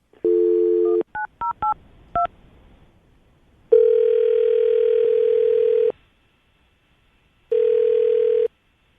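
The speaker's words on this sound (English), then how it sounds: "We're going to call her right now, get her on the phone" Telephone keypad dialing: a held dial tone, then a quick run of separate touch-tone beeps, followed by long steady ringback tones with a pause between them, loud and clear with no voices.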